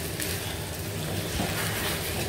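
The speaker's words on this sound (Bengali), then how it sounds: "পোলাও চালটা ভেজে নিচ্ছি।" Pulao rice sizzles and crackles steadily in a hot pan, a dense, even frying hiss with no voices.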